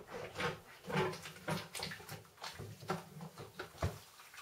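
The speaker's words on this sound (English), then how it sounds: "I've got a spare bucket here to siphon the water out." Water gurgling and splashing as a siphon hose drains a marine aquarium into a spare bucket, a steady close trickle with small bumps and knocks of the pipe and bucket.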